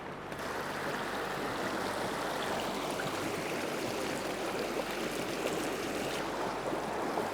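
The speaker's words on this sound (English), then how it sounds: "So that's my first attempt at gold panning" Creek water rushes steadily around gold panning in a creek at Nundle, Australia, a continuous broadband wash at an even level with no distinct splashes and no talk.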